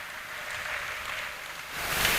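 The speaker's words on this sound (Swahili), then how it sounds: "Makofi kwa waimbaji." A church congregation claps for the singers, a dense wash of applause that swells louder toward the end of the short stretch, with no voices on top.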